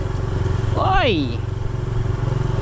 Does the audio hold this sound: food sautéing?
no